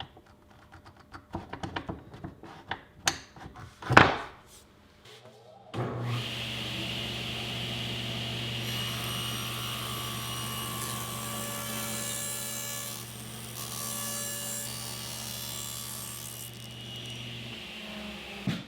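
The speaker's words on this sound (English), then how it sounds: "Now I'll set the fence at 1 inch and 1/16, run the molding through again, and cut that off at a 90-degree angle." A table saw cuts wood molding run along the fence. Tapping and handling noises come first, then the blade spins up into a loud, steady whine that holds for about thirteen seconds.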